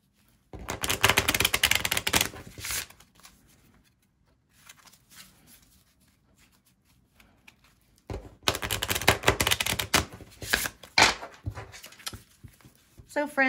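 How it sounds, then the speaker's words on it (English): Two loud bursts of rapid riffling of oracle cards, separated by a quieter stretch of soft handling and shuffling noises. "as I shuffle"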